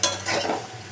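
Homemade pasta is stirred in a hot pan, a short close scrape and swish of a utensil over a soft sizzle.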